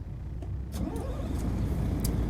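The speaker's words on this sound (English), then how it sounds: "I have the Volvo engine in this today with 600 horsepower with the Eaton Fuller 18-speed transmission." A 600 hp Volvo engine in a Volvo VNL 2019 truck with an Eaton Fuller 18-speed transmission, in American Truck Simulator: a steady, close low diesel rumble with a few brief higher clicks, no voices.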